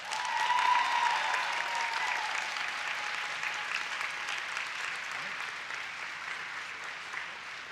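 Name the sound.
audience applause at graduation ceremony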